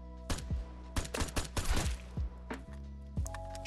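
Single-fire gunshots in the video game Vigor: about a dozen sharp, close reports in uneven bursts, separated by short gaps, with faint footsteps between them.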